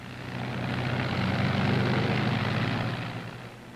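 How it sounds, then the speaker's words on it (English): Steady roar of WWII P-51 Mustang fighter aircraft engines in flight, a dense droning hum that swells slightly and then eases, with no voices. "the long-range Mustangs go to keep their rendezvous with the bombers someplace deep in Germany"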